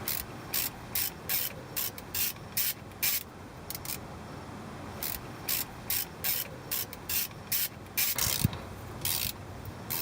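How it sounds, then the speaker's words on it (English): A 1/2 inch ratchet loosens differential cover bolts during a differential oil change, its pawl clicking in a steady back-and-forth rhythm of short bursts, close and distinct throughout with no speech. "This is a 1/2 inch ratchet."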